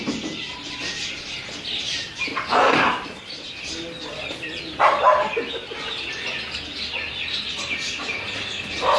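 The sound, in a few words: blue pigeons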